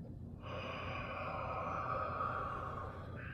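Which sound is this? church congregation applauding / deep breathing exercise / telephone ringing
deep breathing exercise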